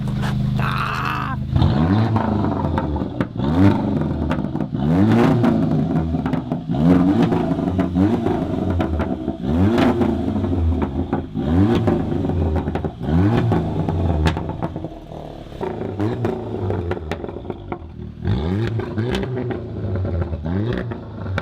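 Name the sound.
car engine revving with open exhaust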